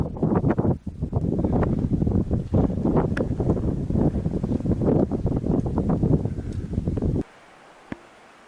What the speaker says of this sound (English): A bit sheltered here, but getting a few gusts of wind now.